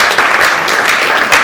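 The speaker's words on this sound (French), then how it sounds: "sous vos applaudissements" Audience applause fills an awards ceremony hall, a dense burst of clapping heard up close and alone for a short moment.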